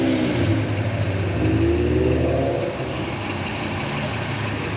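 A large truck's engine revs loudly and up close at a Ken Block tribute car gathering, the roar climbing and holding for a couple of seconds before easing back to a steady idle rumble.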